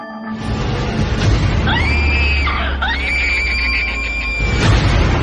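Within a horror drama, a woman's long, strained scream rises and wavers for several seconds over a steady low rumble, loud and close, with a brief pause midway before the cry resumes.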